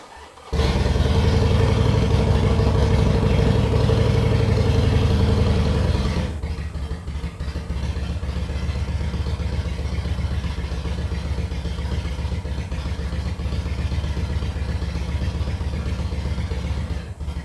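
A 2006 Harley-Davidson Sportster with a carbureted Evo V-twin, choke on, fires up and settles into a loud, close, lumpy idle that drops slightly in pitch after a few seconds and carries on steadily.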